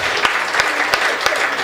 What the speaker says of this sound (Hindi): तो ताली इसके लिए बजा दो।